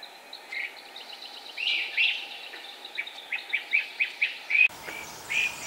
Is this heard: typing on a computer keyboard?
no